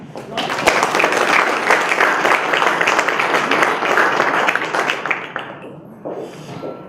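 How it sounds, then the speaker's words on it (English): A welcoming round of applause from an audience at a startup session greets the speaker Roy: dense, sustained clapping for about five seconds that thins out toward the end, with a voice starting as it fades. "let us all start with a very quick round of applause for Roy"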